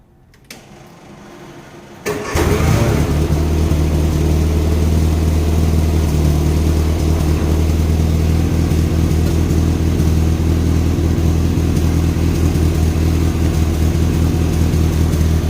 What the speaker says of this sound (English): So I'm going to go ahead and fire her up with the new plugs and new oil.